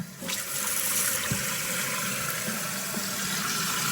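Water rushes steadily into a toilet tank, a constant hissing fill with a brief splash at the start, running without pause.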